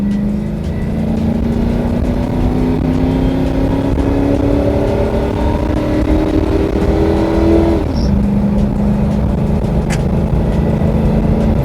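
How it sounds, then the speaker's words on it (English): A SEMA build truck accelerates at full throttle from 0 to 60, its engine note loud and steady as the pitch climbs, then drops briefly at a gear shift before pulling on again, heard from inside with no talking. "this is a quick 0 to 60, that's full throttle"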